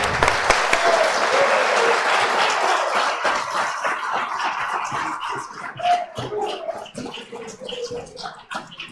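Loud applause from a conference audience welcoming Javier Milei as guest of honor in Ecuador, dense clapping at the start that slowly thins and softens, with scattered louder claps and some crowd noise later.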